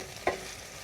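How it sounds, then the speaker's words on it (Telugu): Onions go into hot oil in a pan for an okra masala curry, giving a low steady sizzle with one short scrape of stirring. "ఉల్లిపాయలు వేస్తున్నానండి"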